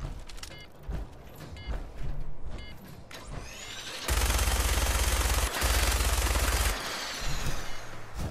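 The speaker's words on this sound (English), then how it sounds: "And we do have a minigun as well, so I'm gonna get that ready" Minigun firing in Fallout 4, a loud dense continuous roar of rapid shots in two sustained bursts, preceded by scattered game combat noise.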